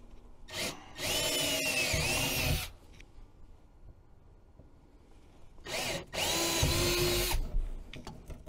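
A power drill boring mounting holes for a boat's steering console runs in two sustained bursts of a couple of seconds each, loud and close, with a quiet pause between them.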